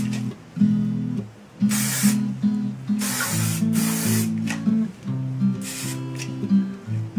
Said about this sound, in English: Now when your hair stands on its own, you can just go over it with the hairspray